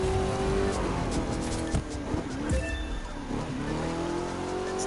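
In the racing game The Crew 2, a limousine drifts with its engine droning and shifting pitch while tires squeal in long sweeps, loud and near, with no speech.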